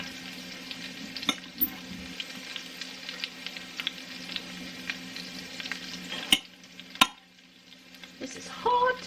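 Eggs sizzle steadily in a hot pan as a one-pan lunch cooks, with continuous frying crackle and occasional scraping stirs and utensil clicks close by.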